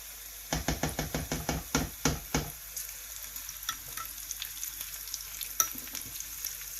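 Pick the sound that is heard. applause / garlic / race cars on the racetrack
garlic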